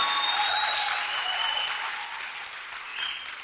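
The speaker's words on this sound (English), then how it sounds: "give Vusi another round of applause for that" A crowd at a business talk applauds a speaker in a strong, continuous wash of clapping that stays full for the whole stretch, with a few faint whistles running through it.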